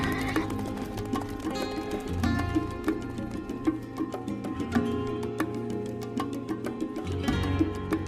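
Horses neigh and whinny while hooves clip-clop in a steady rhythm, the calls loud and close, with repeated whinnies layered over the hoofbeats and no talk.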